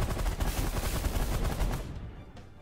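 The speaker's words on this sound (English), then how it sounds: "Let's just randomly shoot whatever with our minigun." Minigun firing in the space strategy video game The Last Federation, a dense roaring burst of rapid gunfire that cuts off after about two seconds.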